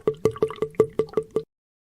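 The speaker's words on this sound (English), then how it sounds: "The bag is filled with the sample water." A clear plastic test bag is filled with sample drinking water, giving eight quick, evenly spaced gurgling glugs over about a second and a half before stopping.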